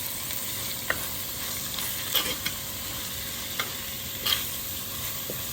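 Salted onions sauté with green chillies and curry leaves for a crab roast, giving a steady bright sizzle close by, with a handful of sparse scraping stirs and light clicks standing out against it.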